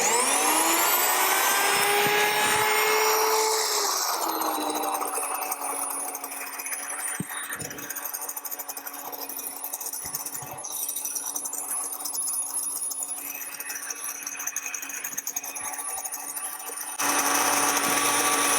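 An electric grain mill grinds whole wheat with a loud, steady high-pitched motor whine, harsher at the start as it spins up, then settling into an even droning hum for the rest of the run.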